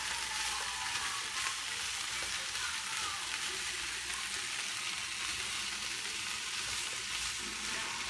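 Zucchini and other vegetables frying together in a pan alongside steak, giving a steady, continuous sizzle at close range with no talking.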